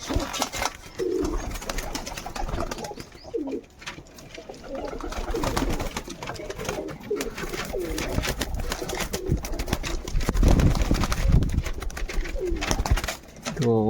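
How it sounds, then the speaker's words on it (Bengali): Pigeons coo repeatedly at close range amid a steady, noisy background, with occasional rustling and faint voices. "কিছু কবুতর দেখাই এদিকে আমার জিয়া পায়রা ডিম দিয়েছে"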